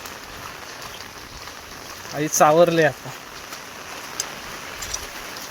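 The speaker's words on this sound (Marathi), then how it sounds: "पाऊस पण आला" Rain falling outdoors in the Konkan during a trip to sell fish; a soft, steady hiss runs throughout, with a brief voice speaking over it.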